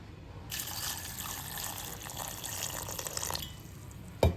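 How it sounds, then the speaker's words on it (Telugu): Water pours steadily onto tamarind to soak it for about three seconds, a bright splashing trickle that stops, followed by a single sharp knock at the end. "ఈ చింతపండు కూడా మనం ఏంటంటే నీళ్ళు పోసి నానబెట్టేసుకోవాలి"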